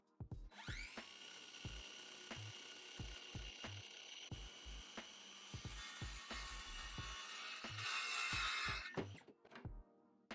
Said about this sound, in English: Time to saw.